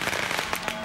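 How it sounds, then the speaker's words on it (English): Firecrackers bursting at a Chinese New Year parade in San Francisco, a dense crackle of sharp pops in quick irregular succession, loud and continuous through the moment. "you can usually hear them coming from about a half a mile away with those thunderous firecrackers announcing their arrival."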